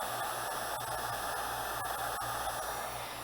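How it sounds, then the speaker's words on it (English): Heat tool blowing hot air over melted yellow crayon wax, a steady close-up whooshing roar with no break, continuous and uniform throughout. "let the heat tool kind of blow it around"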